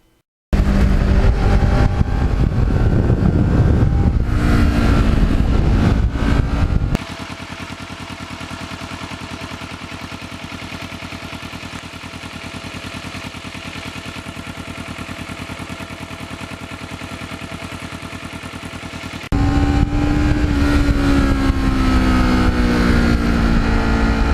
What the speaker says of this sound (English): Kawasaki did a great job with the muffler on this bike. It's not loud and obtrusive down in the lower RPMs